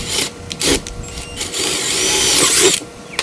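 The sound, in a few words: power drill drilling holes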